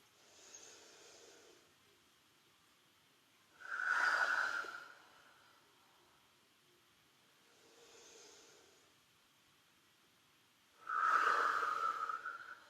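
Slow yoga breathing: two long, audible nasal inhales, each followed by a softer, quieter exhale, evenly spaced and close up in a calm room.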